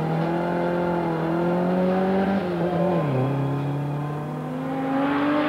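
A Volvo P544 rally car on a tarmac stage drives hard and close, its engine note climbing through the revs, dropping at a gear change and rising again, loud and continuous.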